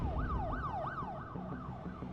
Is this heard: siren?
yes